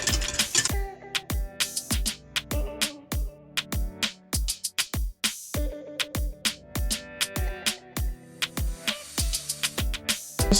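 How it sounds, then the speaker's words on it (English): A whisk beats four egg yolks in a bowl for coffee ice cream, making a fast, steady run of close, ringing clinks against the bowl with a brief pause partway through and no talking. "So I'm going to whisk that together. Lightly whisk."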